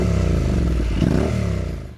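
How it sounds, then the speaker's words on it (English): Honda 745 cc parallel-twin motorcycle engine running steadily at a loud, close idle-to-mid rev with a throbbing rumble, easing off and cutting out at the end. "At number 2, Honda 745 Parallel Twin."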